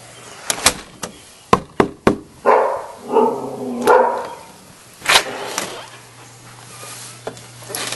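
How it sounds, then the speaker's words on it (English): Several sharp, loud knocks on a door followed by a dog barking a few times nearby, with short gaps between barks. "She can bark."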